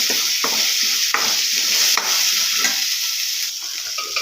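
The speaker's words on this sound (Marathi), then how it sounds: "ज्यामध्ये तिखट घालून घ्यायचं. छान असं परतून घ्यायचं." Food tossed with chili powder sautéing in a pan, a loud steady close sizzle with scattered scraping strokes of the spoon as it is stirred, and no one talking.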